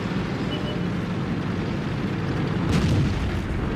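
Tank guns firing in World of Tanks around an Indien-Panzer: a dense, continuous rumble of distant cannon fire and battle noise, with one louder, sharper report standing out near the end. No voices.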